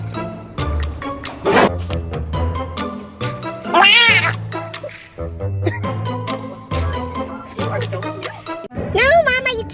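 A cat meows loudly and repeatedly, its drawn-out, wavering cries rising in pitch, mixed with an excited person's voice talking and shouting over and between the calls, all heard up close.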